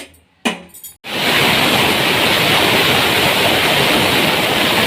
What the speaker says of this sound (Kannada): ಕುಕ್ಕರ್ ವಿಜಲ್ ಬಿಟ್ಟಿದೆ